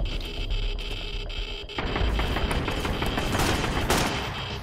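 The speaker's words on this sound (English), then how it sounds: "Sniper rifle." Gunfire in the survival video game Sunkenland, a continuous burst of loud, dense shots with no talk over it, the crackle growing heavier partway through.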